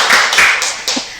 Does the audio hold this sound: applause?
yes